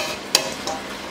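Chicken and vegetable rice cooking in a pan, a short soft sizzle with a brief stirring scrape and a fainter second scrape, close by with no voices.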